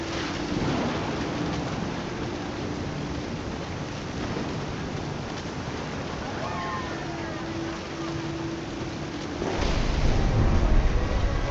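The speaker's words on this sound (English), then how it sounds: "The thunder sounded much too close and full of angry power." Heavy rain and storm noise in What Remains of Edith Finch, a dense steady hiss with faint low rumbles, swelling into a louder deep roll of thunder near the end.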